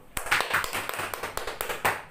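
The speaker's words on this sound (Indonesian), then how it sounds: "Tepuk tangan dulu dong untuk Nurul." Applause in an online microteaching classroom session for a student, a short burst of quick, fairly faint clapping lasting about two seconds.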